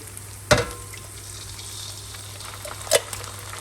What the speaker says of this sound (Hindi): ये कलौंजी और सौंफ ये डाल दी, ज़रा सा इसे भून लिया